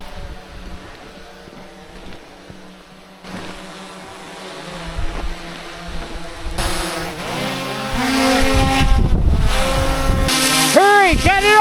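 A car engine with a busted gas tank idles and then revs harder, growing louder with rising and falling surges near the end, while people shout over it.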